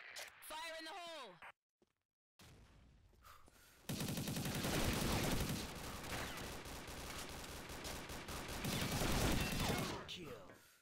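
In the online shooter Combat Arms, a P90 submachine gun rattles off rapid automatic bursts, loud and sustained over several seconds, after a brief stretch of game sound and a short silence.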